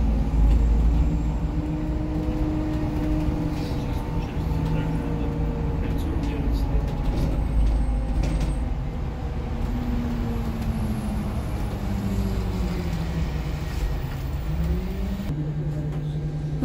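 Steady low rumble of a city bus idling and creeping in heavy traffic on Nevsky Prospekt in Saint Petersburg, with engine hum and gliding pitch shifts throughout, someone speaking over it.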